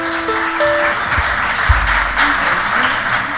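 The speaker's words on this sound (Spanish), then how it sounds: "Aplaudan otra vez, por favor, porque me sonó a poco." Carnival audience at a folk group's outdoor show in El Tablero de Maspalomas gives a loud burst of applause, sustained clapping from many hands with a couple of low thumps partway through.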